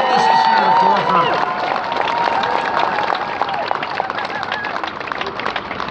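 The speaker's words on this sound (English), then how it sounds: "I think we need to give her a real big applause for her push to get this issue to the forefront." A rally crowd in Victoria, gathered over BC health care, breaks into sustained applause and cheering. The sound starts strong and slowly thins under a lingering babble of voices.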